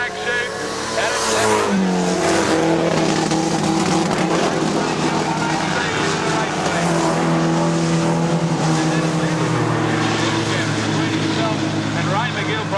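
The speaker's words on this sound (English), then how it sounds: "possibly something wrong with the Subaru from Ray McGill. Yes, it is. It sounds terrible" A Subaru modified production race car on a Kingaroy dirt speedway runs rough and sounds faulty, its engine drone loud and continuous alongside other racing cars, with a commentator talking over it.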